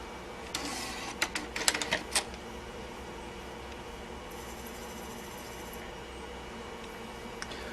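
A Nakamichi 5-disc CD-ROM changer loads a disc, giving a quick cluster of small mechanical clicks and whirs, faint and close, followed by near silence and one last soft click.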